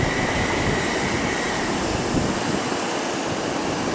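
TransPennine Express class 185 unit 185147 runs through Leeds station, a steady, loud rumbling roar that fills the whole stretch without any voices.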